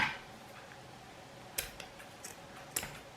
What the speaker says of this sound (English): So I'm just going to cut it to size